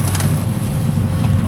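A cruising sailboat motors at sea under engine power at about nine knots, with a loud, steady low engine drone mixed with wind and rushing water.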